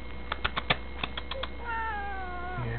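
A cat meows close by in a trailer park home, a drawn-out wavering cry following a run of light tapping clicks, heard alone against a quiet background.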